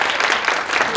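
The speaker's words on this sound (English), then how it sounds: "so we can give you a round of applause" A brief burst of audience applause at an installation ceremony for a realtors' association board, dense steady clapping from a crowd filling the whole second.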